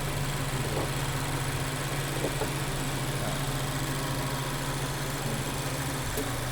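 A Mazda CX3 1.5 engine idling, a steady, fairly faint low hum with a constant even tone and no talking.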